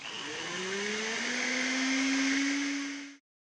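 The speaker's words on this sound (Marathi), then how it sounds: "एका मिक्सर जारमध्ये बिस्किटाचे तुकडे करून घ्यायचे आहेत, त्याची बारीक पावडर करून घ्यायची आहे" A mixer grinder grinds Parle-G biscuit pieces into powder, whining loudly and rising in pitch for about three seconds before cutting off abruptly.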